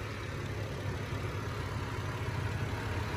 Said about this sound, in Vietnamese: Máy nổ phải công nhận là máy con này nổ êm.